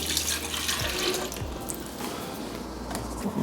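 Milk pours steadily into a blender, a close, continuous gurgling rush with no voices.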